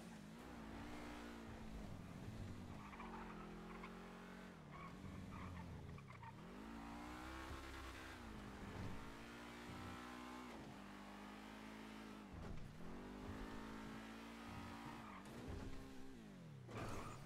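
A video-game car in a GTA roleplay server is driven hard, its engine revving up and down in repeated cycles with tire squeals and skids, steady and close, no talking.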